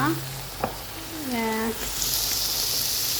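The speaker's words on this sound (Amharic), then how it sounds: "ፓስታውን ጨምር።" Half a kilo of pasta goes into a hot pot, setting off a close, steady sizzle with a brief knock early on; a voice is briefly heard at the start.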